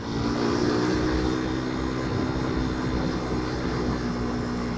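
A Raider 150 motorcycle fitted with a 14-43 sprocket set accelerates hard in third gear, its engine giving a loud, steady, close-up drone that holds without a break and with no voices.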